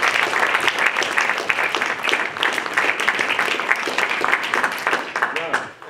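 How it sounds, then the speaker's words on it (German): Audience applause at the 2024 annual general meeting of the Freie Wähler Waldeck-Frankenberg association, a steady, dense clatter of many hands lasting the whole stretch before fading at the end, with voices mixed in. "ich denke, er hat auch mal einen Applaus verdient."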